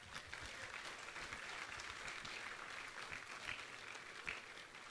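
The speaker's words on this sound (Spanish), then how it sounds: "Denle un aplauso al Señor." A church congregation applauds during a general service, sustained clapping from many people at a fairly low level, continuous for several seconds with a few sharper claps standing out.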